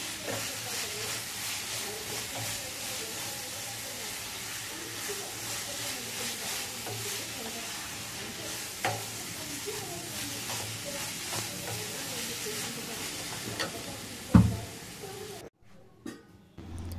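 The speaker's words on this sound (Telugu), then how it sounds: "బీట్రూట్ టమాటా బాగా ఫ్రై అయిపోవాలి." Beetroot and tomato fry and sizzle in a pan for a beetroot, green peas and tomato rice, a steady hiss with stirring scrapes and a sharp clink near the end, the sound then dropping off.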